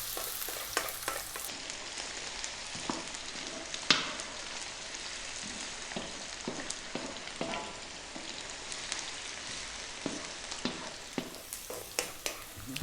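Chopped garlic fries in oil over high heat for mushroom fried rice, with a steady close sizzle and frequent scraping clicks as it is kept moving; no talking.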